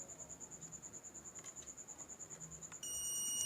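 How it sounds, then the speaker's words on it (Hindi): A multimeter on continuity mode gives a steady, shrill electronic beep while its probes touch a faulty shorted IGBT in an induction cooker under repair, pulsing faintly and then holding continuous near the end. "ये देखिए दोस्तों, मुझे बीप साउंड मिल रहा है,"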